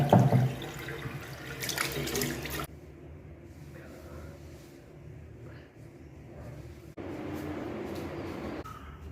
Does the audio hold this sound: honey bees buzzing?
no